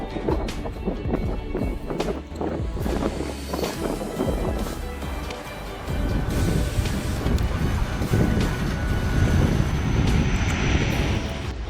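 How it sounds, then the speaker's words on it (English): A Karov aircraft landing into a fierce headwind: a sustained engine roar mixed with gusty wind buffeting on the microphone, growing louder and denser in the second half. "pilots achieved a jaw-dropping feat by landing a Karov aircraft in fierce headwind conditions"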